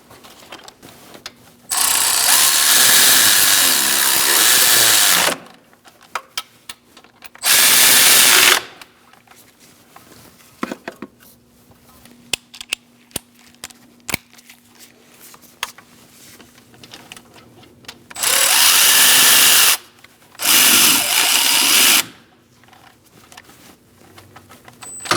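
A power tool snugs bolts on a 2002-2006 Toyota Camry transmission mount, making four loud buzzing whirring bursts of a few seconds each, separated by quieter gaps with faint clicks and handling noise.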